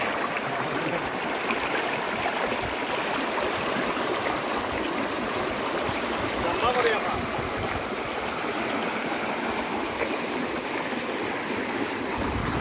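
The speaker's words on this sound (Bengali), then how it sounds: "পরিষ্কার জল পাহাড় থেকে নেমে আসছে" A clear mountain stream runs down over rocks, a steady, full rushing wash of water that stays loud and unbroken throughout, close by, with no distinct voices on top.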